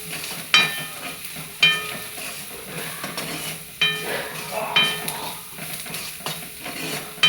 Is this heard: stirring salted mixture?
yes